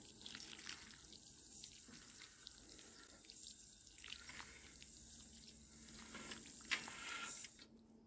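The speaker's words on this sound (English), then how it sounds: "just gonna add some water" Water poured onto soil, trickling and splashing steadily at close range for several seconds, fairly quiet, ending with a brief louder splash.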